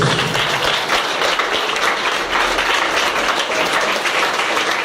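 A church congregation claps continuously throughout, a dense, even wash of applause at steady loudness with no talk over it.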